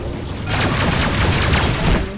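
Incoming missile explosion in the space combat game Rebel Galaxy Outlaw: a loud, dense rumbling blast with crackling bursts, sustained across the whole moment.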